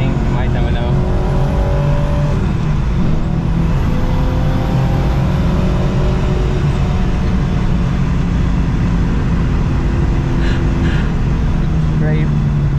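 A 575 hp RWB Porsche 993 Turbo drives on the road, its engine a loud, constant low drone filling the cabin with faint steady noise over it.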